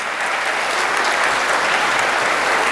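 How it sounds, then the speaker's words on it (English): Steady, dense applause from an audience at a state-final awards ceremony for the TCS TechBytes 2023 quiz, loud and sustained throughout with no speech over it. "Can we have a round of applause for him?"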